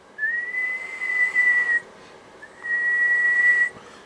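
Two long, steady whistled tones go into a microphone during a power test of a Blackcat JB-150 style modulator box. Each is loud and held for over a second, with a short gap between them and no speech.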